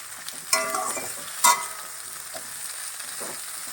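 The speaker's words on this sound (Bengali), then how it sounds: "খুব সুন্দর করে ভাজা ভাজা করতে হবে যাতে কাঁচা সবজির গন্ধটা চলে যায়" Vegetables fry and sizzle in hot oil in a pan for a bata fish curry, a steady close hiss with two sharp stirring clatters early on and no talking.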